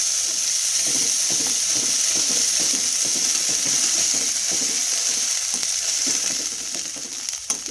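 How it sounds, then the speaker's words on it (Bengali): Whole spices (five-spice phoron), turmeric and three bay leaves fry in hot oil while being stirred. A loud, steady sizzle runs throughout, with rhythmic scraping from the stirring. "মশলাটা এবার একটু কষিয়ে নেব"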